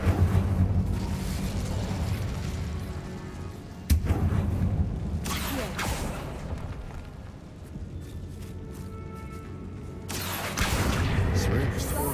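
The Incendio fire spell cast in the Hogwarts Legacy video game, a loud roaring burst of flame that sustains and surges again later, with game music beneath.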